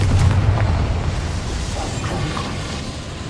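A Confringo blasting spell in Hogwarts Legacy detonates with a deep, close boom that rumbles and then fades into a lingering low decay.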